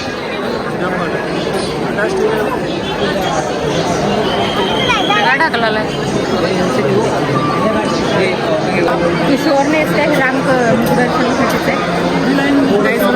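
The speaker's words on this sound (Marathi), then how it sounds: "गर्दी आहे खूप म्हणजे खूप जास्त गर्दी" A large, dense crowd chatters at the Ambabai temple during darshan, a loud, continuous babble of many overlapping voices nearby, with a person talking over it.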